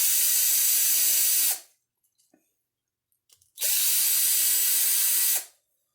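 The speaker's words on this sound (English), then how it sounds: "Grab a drill to do that." A power drill backs screws out of the underside of an ECX Torment RC truck during a gear change, running in two steady whirring bursts separated by a short pause, close and loud with no talking.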